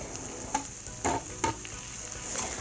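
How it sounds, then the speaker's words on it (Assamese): Chopped taro stems fry with spices in a pan, a steady close sizzle broken by a few sharp scraping stirs, with no talking. "মই যি ধৰণে মছলাখিনিৰ লগত এই কচুৰ লতিখিনি ভাজি আছো"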